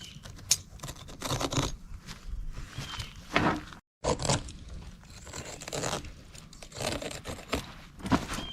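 Old loose material being cut and trimmed from a worn 1990 piece, heard as close irregular scraping, tearing and snipping bursts with a brief silent gap midway and no speech.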